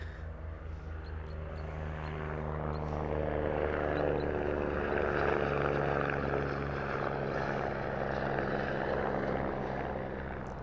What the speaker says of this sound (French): Tu as peut-être entendu le passage d'un petit hélicoptère.